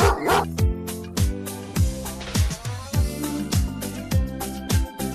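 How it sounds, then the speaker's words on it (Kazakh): Cartoon dog and puppy barking in a children's animal-sounds piece: repeated short yips and bow-wows over a rhythmic musical backing with a regular beat. "Ит, күшік. Ит, оның төлі"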